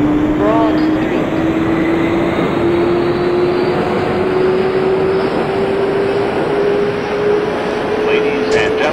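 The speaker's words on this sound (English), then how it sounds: "This is a Broad Street bound J local train" A New York City Subway J local train rolls along in the OpenBVE train simulator, a loud steady rumble of wheels and motors with a rising whine running throughout, no pauses.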